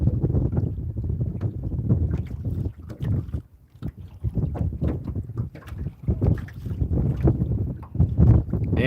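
Gusty wind buffeting a fishing boat on open water, loud rumbling microphone blasts rising and falling irregularly with a brief lull partway through.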